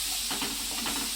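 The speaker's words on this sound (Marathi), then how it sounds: "मी आता हे वाटण टाकून घेते, लसूण आणि कोथिंबीर ह्याची फोडणी देते" Garlic and coriander paste sizzles in hot oil as a spoon stirs it, a steady frying hiss with a few scraping strokes against the pan, close and fairly quiet.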